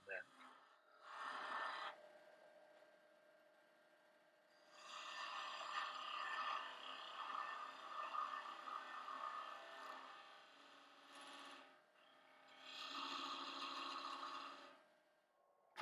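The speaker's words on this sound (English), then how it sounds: "I did a little bit of sanding to get the tool marks out" Sanding a small wooden angel ornament spinning on a lathe: several bursts of abrasive rasping of varying length, separated by quiet gaps, close and moderately loud.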